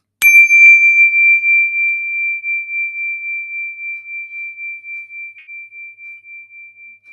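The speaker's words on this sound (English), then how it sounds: "when you detect the vibrations of my bell, please allow your eyelids to drop" A meditation bell is struck once, giving a sharp metallic attack followed by a pure, steady ring that slowly fades while pulsing gently over several seconds, clear and close in an otherwise silent space.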